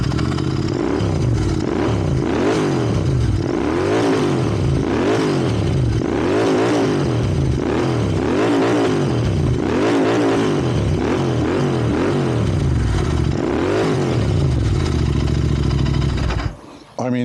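A 2023 Royal Enfield GT 650 twin-cylinder motorcycle engine revs repeatedly, rising and falling in steady surging cycles, loud and close with a throaty exhaust note throughout, cutting off abruptly at the end.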